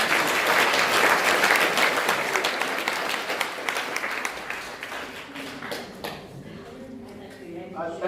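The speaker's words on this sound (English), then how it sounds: "Everyone will give you a round of applause." An audience in a school talk setting applauds, dense and loud at first, then thinning into scattered claps as it fades out.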